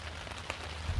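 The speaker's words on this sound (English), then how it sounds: "You can hear that rain's really coming down now." Heavy rain drums on a camp shelter during a solo overnight stay, a dense steady patter with a single sharper drop and low rumble near the end, quiet and without talk.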